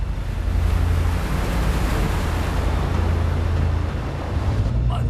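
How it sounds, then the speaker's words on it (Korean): Rough, storm-driven sea surges around a fishing boat in a steady loud wash of broadband noise, with wind buffeting the microphone and no break in the roar. "오늘도 파도가 심상치 않습니다."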